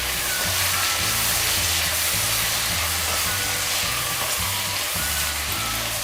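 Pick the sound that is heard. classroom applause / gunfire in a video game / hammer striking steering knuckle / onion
onion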